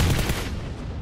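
Gunfire in the mobile battle-royale shooter PUBG Mobile (BGMI) during a team deathmatch: a loud, dense burst of shots at the start that quickly fades to a softer rattling tail within about a second, with no speech.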